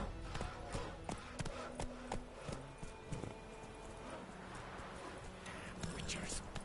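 Roach's hooves clip-clop steadily at a gallop in The Witcher 3, a close rhythmic pounding with a snort or whinny, under someone speaking.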